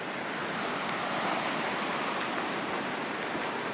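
Steady surf washes onto a small beach at an overnight hammock campsite, a continuous broad roar of breaking waves close by with no voices.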